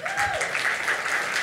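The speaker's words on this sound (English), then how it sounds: "Round of applause." An audience at a Devcon SEA conference talk applauds in a dense, steady clatter, with a speaker's voice briefly heard over it at the start.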